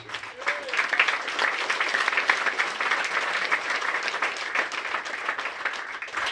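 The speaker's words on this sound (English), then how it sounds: "we should all give a round of applause to the women's program" Applause for a women's program at a Hall of Fame induction ceremony: a large crowd claps steadily and densely, with a faint voice under the clapping.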